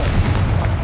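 A Confringo spell blast in the Hogwarts Legacy video game, heard as one loud, deep, rumbling boom that fills the brief moment.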